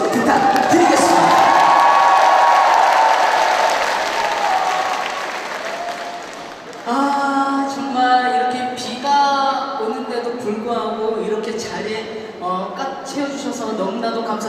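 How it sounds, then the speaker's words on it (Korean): A large outdoor crowd at a trot music festival night concert claps loudly with cheers and whoops, the applause swelling then fading before an amplified voice speaks over lingering scattered clapping and shouts. "다시 한번 큰 박수 부탁드리겠습니다"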